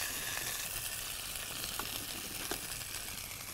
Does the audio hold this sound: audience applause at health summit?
no